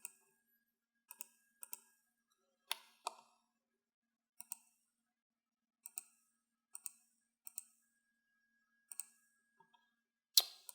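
Computer mouse clicking at a desk during AutoCAD drafting, about fifteen sharp isolated clicks spaced irregularly, close and crisp against near silence.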